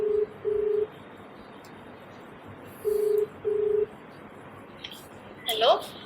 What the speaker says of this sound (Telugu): ఫస్ట్ ఫోన్ చేయాలి, స్పీకర్ ఆన్.